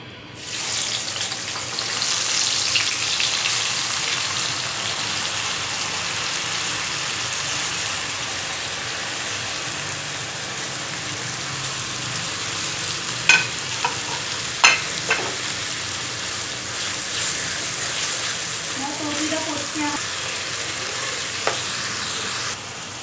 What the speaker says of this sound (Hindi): अभी इन तमाम चीज़ों को अच्छे से भून लेंगे।